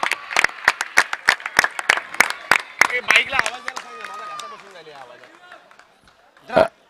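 Spectators clap at a local cricket league match, a quick run of sharp, fairly sparse claps for about three seconds before a commentator's voice takes over, with one last clap near the end.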